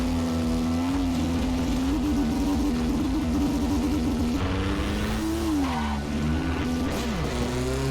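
A Toleman T184 Formula 1 car in Assetto Corsa roars steadily at close range, its engine pitch dipping and rising as it brakes and accelerates again.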